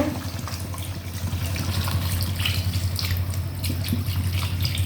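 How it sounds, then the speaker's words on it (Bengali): Water poured into a pan of chicken and potato curry, a steady rushing, trickling pour that continues close and fairly loud throughout, with no talking. "এবার কষানো শেষ, এবার ঝোল দিয়ে দেব।"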